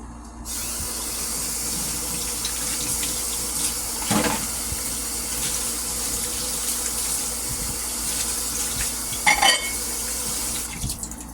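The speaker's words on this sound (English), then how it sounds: "just going to wash my hands" Tap water runs into a kitchen sink while hands are washed, a steady close hiss and splash lasting throughout, with a couple of brief louder splashes and clatters.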